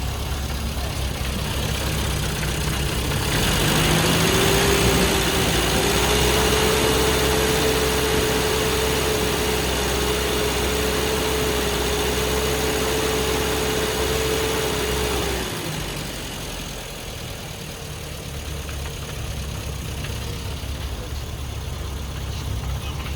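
A car engine is held at around 2,000 revs during a tuning demonstration, a steady, loud drone that holds for about twelve seconds before the revs drop back to a lower idle.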